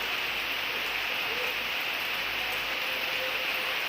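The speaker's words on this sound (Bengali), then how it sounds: "কালকে সারাদিন বৃষ্টি হয়েছে আজকেও বৃষ্টি পড়ছে" Steady rain falls outside a home after a full day of downpour, a dense, even hiss that holds at constant level throughout with no breaks, heard from indoors without any talk.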